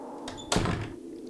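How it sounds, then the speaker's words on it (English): In the video game Cry of Fear, a door opens with a brief click followed by a heavy thunk, then a fading rumble. "This door's open, though."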